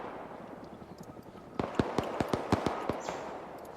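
Gunshots in the ArmA 3 video game, a burst of about eight sharp, loud cracks in quick irregular succession after a stretch of low rumbling background, with a brief high tone near the end.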